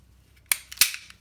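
A handgun slide racked twice in quick succession, two sharp metallic clacks close by with a brief rattle between, in an otherwise quiet room.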